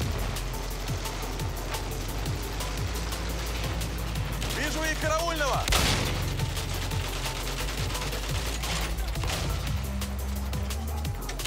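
Gunfire in Battlefield 1, a dense stream of sharp shots and bursts sounding near and far throughout, with players talking over the battle noise.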